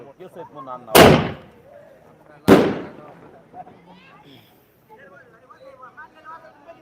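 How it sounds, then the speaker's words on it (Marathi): Two loud, sharp firecracker blasts about a second and a half apart burst at an outdoor welcome rally, each with a brief rumbling tail, while crowd voices and talk continue around them. "अतिशय जोरदार असे फटाके या ठिकाणी फोडले जात आहेत"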